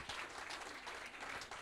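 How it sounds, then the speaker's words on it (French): A brief burst of steady audience applause at the Éco-Tremplin award ceremony held by Radio Mont Blanc, with many hands clapping together, fairly quiet and even. "c'est là que vous applaudissez"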